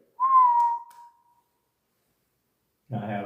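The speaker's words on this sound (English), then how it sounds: "I just heard a whistle." A single clear distant whistle, a short rising-then-falling tone that trails off, followed by silence and then a muffled burst of sound, at Madison Seminary.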